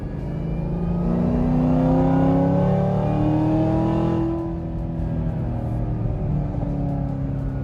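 A Camaro ZL1 with a 2.65L supercharger blower revs toward 5000 rpm, a loud whining rise in engine pitch that holds, then drops back to a lower idle rumble.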